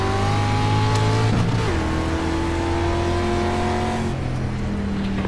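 C Class dirt street stock race cars at Volusia Speedway Park racing right after the green flag, engines roaring and revving with pitch swings as cars pass close by, loud and continuous.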